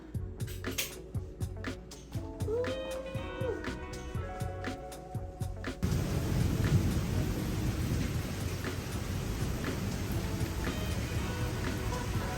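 Steady rain pouring and pattering on surfaces with rumbles of thunder, starting as scattered drips and then turning into a dense, continuous downpour heard nearby.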